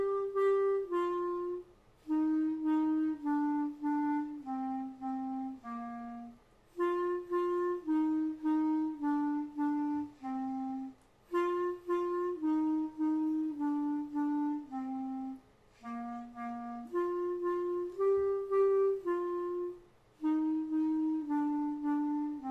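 A clarinet plays Twinkle Twinkle Little Star alone, slow and simple, clear sustained notes in short phrases separated by brief pauses.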